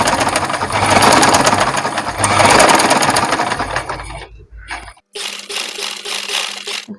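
A sewing machine stitching along the edge of a piece of fabric, its motor running in close, loud steady bursts with a short pause near the fifth second before stitching resumes.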